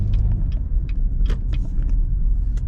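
A car drives along a rural road beside a golf course on Prince Edward Island, its close engine rumble steady throughout with a few brief rattles and clicks on top.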